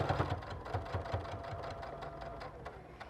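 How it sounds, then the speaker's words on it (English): A domestic sewing machine runs a dart in a button-out lining, sewing straight off the fabric edge: a close, quick rhythmic stitching chatter, fairly quiet and continuous, easing slightly near the end. "I'm going to go ahead and let myself sew right off that edge."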